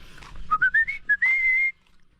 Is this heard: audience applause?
no